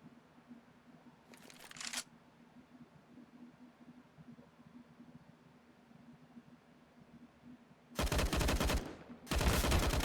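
AUG rifle fire from a Counter-Strike match: a faint short burst early on, then two loud rapid bursts near the end, over a low steady background hum.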